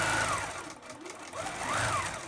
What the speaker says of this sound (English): it's going to go all the way over, and then it's going to come back and fill its quilt